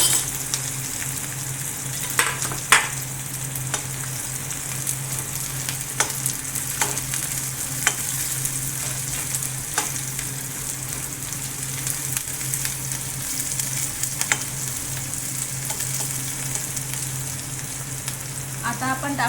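Chilies and onions fry in hot oil in a pan for a potato sandwich filling: a steady, close sizzle runs throughout, broken by occasional sharp clicks and scrapes of stirring.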